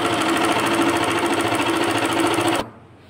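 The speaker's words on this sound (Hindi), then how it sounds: "इस पर हम सिलाई नीचे उतार देंगे इधर से" A sewing machine runs steadily, stitching pleats along the hem of an Afghani salwar, its loud, even motor hum and needle chatter continuing for a few seconds before stopping abruptly.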